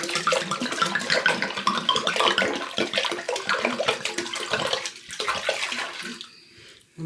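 Wine pours from a one-litre bottle into a sorrel mixture being made in a Jamaican kitchen, a continuous splashing, gurgling stream that fades and thins out near the end.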